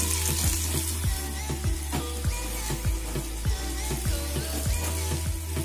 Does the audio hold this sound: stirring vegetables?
yes